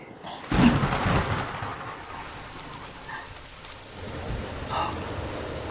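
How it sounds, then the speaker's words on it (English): Steady rain falls outdoors as a soft, continuous hiss, swelling briefly with a burst near the start, with no one speaking. "It's raining."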